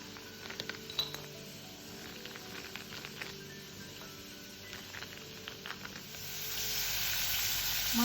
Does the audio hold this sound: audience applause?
no